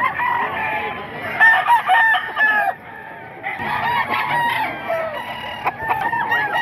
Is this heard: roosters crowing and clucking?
yes